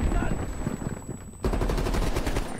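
Rapid automatic gunfire from a Black Ops Cold War campaign firefight, dense bursts that swell louder after a brief dip, with faint voices mixed under the shooting.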